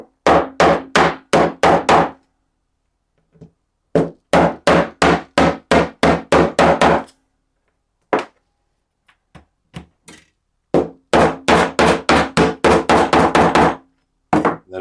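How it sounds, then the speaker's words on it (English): Rapid, sharp knocks from a riveting tool setting washers on a leather belt, loud close strikes in quick rhythmic runs separated by short silences, with a few isolated taps. "Now we need this riveting tool to place the washers on the leather surface"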